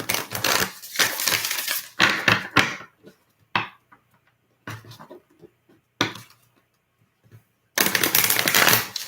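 Oracle cards are handled and shuffled in several loud, papery bursts of riffling and sliding, separated by quieter pauses and single soft flicks, with no talking.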